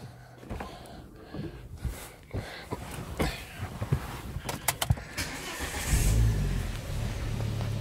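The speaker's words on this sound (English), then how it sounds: "Engine running." Clicks and jingling keys, then a Volvo car engine turns over and catches, settling into a low, steady rumble.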